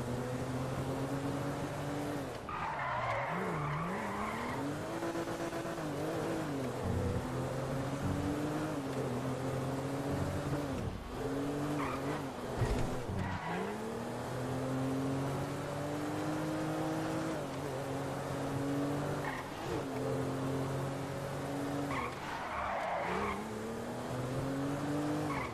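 A car in GTA skids through a missed turn, long wavering tire squeals over a steady engine drone that rises and falls for about half a minute, close and loud, with no talking.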